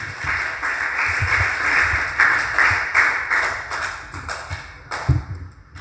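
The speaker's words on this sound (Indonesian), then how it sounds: "Kasih tepuk tangan untuk Tuhan." A church congregation at a Pentecost service applauds, giving a soft, continuous wash of mixed hand claps with a few sharper individual claps standing out, moderately near and fairly subdued.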